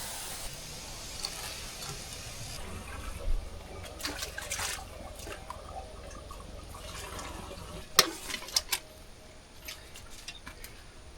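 River water flowing and splashing at a rural riverside, a soft continuous rush with scattered brief splashes and gurgles, fairly faint and close.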